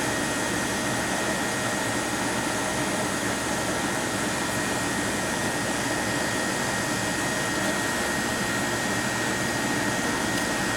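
A Troy-Bilt leaf blower, only a couple of years old, runs at a steady, loud, close roar with no letup and no voices.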